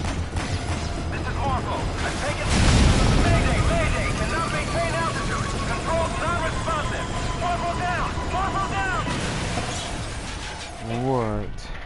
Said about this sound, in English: The chopper went down.